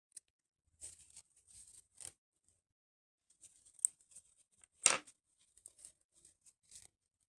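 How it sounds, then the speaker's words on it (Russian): Scissors cut crochet thread in a quiet room, with faint rustling and one short, crisp snip standing out near the middle. "Обрезаю ниточку."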